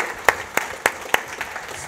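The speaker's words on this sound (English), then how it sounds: "I think that we should probably give you a round of applause" A few slow, distinct hand claps, about four sharp strikes at an even pace, close and moderately loud, from a small audience at a real estate investment talk.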